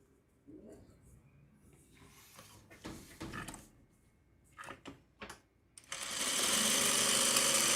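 A sewing machine stitches two fabric pieces together, starting after some scattered handling clicks and soft talk and then running as a loud, continuous steady whir to the end.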